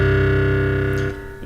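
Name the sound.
synthesized metal guitar string bend in Reason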